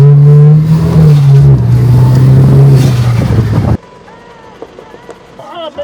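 A cheap used car bought at an American auction revs hard and loud, its engine note rising and dipping for several seconds before cutting off abruptly into quiet background noise.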